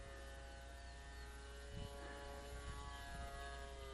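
Super Cub RC model airplane converted to a brushless motor, flying in gusty wind, its steady electric motor whine and propeller drone sustained and fairly distant, with buffeting wind noise rising and falling underneath.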